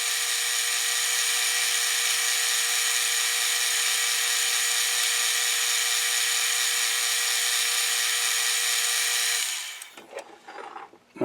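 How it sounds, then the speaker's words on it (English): A centre drill cutting on a lathe fitted with a Dremel toolpost grinder setup gives a steady, loud, high whine that runs unbroken for about nine seconds, then stops abruptly and leaves faint clattering behind. "I'll just pop a centre drill in here and"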